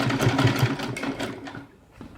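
Sewing machine top stitching a blouse, a quick steady mechanical whirring close by that slows and stops near the end.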